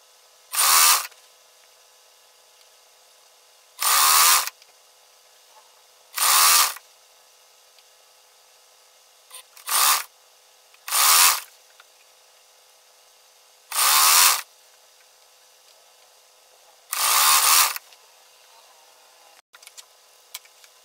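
A sewing machine stitches a folded half-centimetre hem on bedsheet fabric, running in seven short bursts of a second or so, separated by silent pauses, fairly close and alone.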